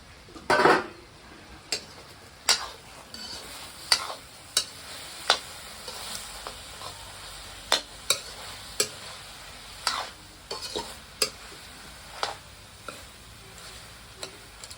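Pork with mustard greens being stirred in a pan, with regular spoon scrapes and taps against the metal roughly every second over a faint, steady sizzle, close up and without any talk.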